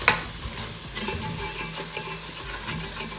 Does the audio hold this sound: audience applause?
no